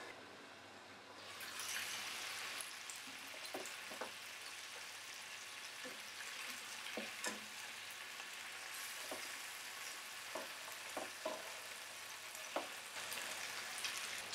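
Spicy chicken tikka cooking under a lid in a pan gives a steady, moderate sizzle and fry hiss throughout, with occasional small pops and ticks, no talking.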